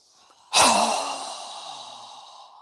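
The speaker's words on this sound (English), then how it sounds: "Strong exhale." A single strong exhale through the nose or mouth during a yoga breathing exercise, sharp onset then a long fading breathy rush, close and alone.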